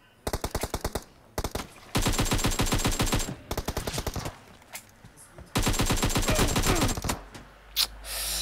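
Bursts of rapid automatic gunfire from the battle game PUBG Mobile, several sustained volleys separated by short gaps and single shots, loud and close with no speech over the shooting.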